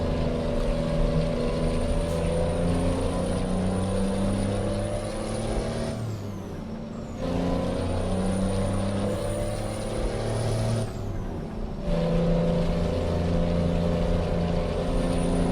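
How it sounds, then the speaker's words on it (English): A loud, rumbling truck engine brake in American Truck Simulator, roaring in long blasts that drop out twice between them, with a high whine above, on a freeway. "I like the sound of the Jake brake on this, but it's very loud"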